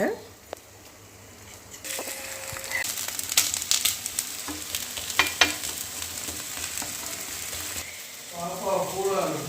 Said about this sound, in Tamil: இது கொஞ்சம் சொரக்காய் நம்ம போட்டிருக்கனால கொஞ்சம் வேகிறதுக்கு கொஞ்சம் நேரம் ஆகும்